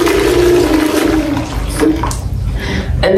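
Steady rush of hot water pouring and splashing into a basin, continuous and fairly loud, with a faint voice briefly underneath.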